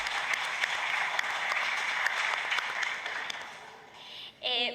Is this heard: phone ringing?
no